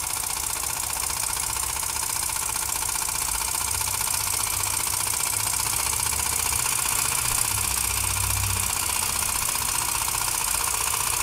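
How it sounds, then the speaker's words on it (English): A Jensen #85 engine runs steadily under the load of four generators powering LED bulbs, a constant mechanical idle with a low rhythmic knock and hum, even in loudness throughout with no talking. "see if you can tell any difference, perceptive difference in the running load of the engine"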